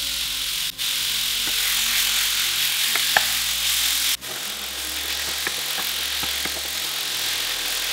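Chicken meat frying in a pan with garlic and onion, giving a loud, steady hiss close up, with scattered small pops and two brief thumps from stirring or moving the pan.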